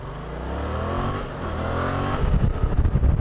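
A Yamaha Tracer 700 motorbike engine rises steadily as it accelerates past traffic, close and loud, with a rougher pulsing roar toward the end.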